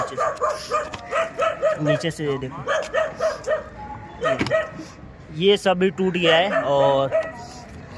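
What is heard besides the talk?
dog barking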